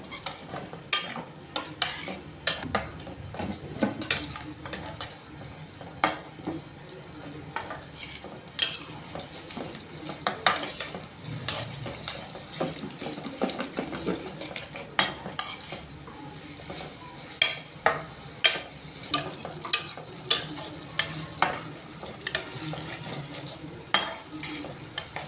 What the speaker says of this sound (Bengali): এবার ভালোভাবে নেড়ে মশলাটা কষিয়ে নিব।